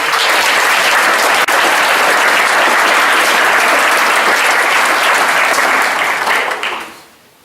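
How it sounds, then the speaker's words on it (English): Sustained applause from an audience at a 2018 athletics awards ceremony, loud and dense for about seven seconds before trailing off quickly at the end. "I'd like to give them a round of applause"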